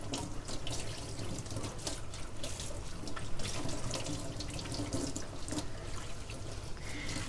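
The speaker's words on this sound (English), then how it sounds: "I will rinse that cloth, and then I will put that cloth to go through the laundry." A tap runs steadily into a sink while a cleaning cloth is rinsed, a continuous soft splashing flow with no talking.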